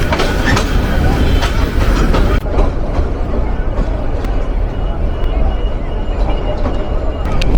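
Agnibina Express passenger train running with full coaches in Bangladesh, a loud steady rumble with rhythmic clickety-clack of wheels on the rails, heard close from on board with faint background chatter.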